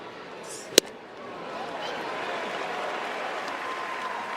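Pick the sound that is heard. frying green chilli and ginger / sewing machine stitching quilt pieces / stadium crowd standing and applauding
stadium crowd standing and applauding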